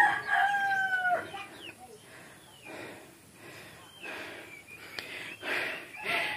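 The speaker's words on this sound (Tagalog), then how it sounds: "Ang mga manok, nagtuhik-tuhik po sila sa wati." Chickens on a rural property clucking, with a rooster crowing near the start, followed by a series of repeated clucks and squawks at close to middle distance amid light background noise.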